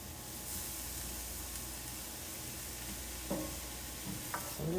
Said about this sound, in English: I'm just gonna let this saute.